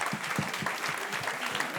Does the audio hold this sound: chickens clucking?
no